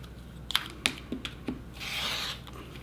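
A cutter slices through fabric layered with paper while paper piecing a quilt block: a few sharp taps and handling clicks, then a short sustained scraping glide of the blade, close and clear.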